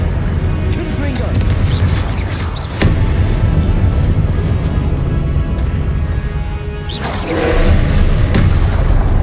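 Booming blasts from Confringo spells fired in Hogwarts Legacy, a few heavy thuds rising out of a loud, dense background with voices speaking over them.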